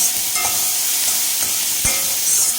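Half a tomato being stirred into bonda tikka masala in a pan with the heat switched off, a close, continuous hiss of frying with a few soft scraping stirs and no talk.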